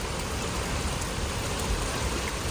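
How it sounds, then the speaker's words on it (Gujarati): Steady rain falls during a weekend at home in Canada, a continuous even hiss of drops on surfaces, moderately faint and unbroken, with no voices. "જો મસ્ત મજાનો વરસાદ"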